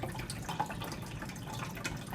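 Filtered water pours into the tank of a CCD coffee machine, a soft close trickle and splash of liquid running steadily and quietly with no speech.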